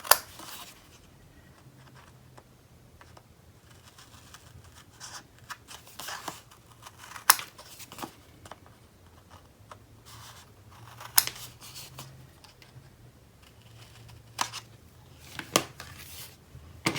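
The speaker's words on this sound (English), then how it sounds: "We're trimming out the corners." Scissors trimming the corners of a paper craft project for a winter-themed card, giving sparse, quiet snips and paper rustles spread irregularly across a soft background hum.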